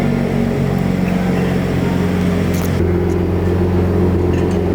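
A Ford Raptor truck rolls into a wheel shop with a steady, close engine rumble and low drone that holds throughout, a brief clatter partway through, no talking.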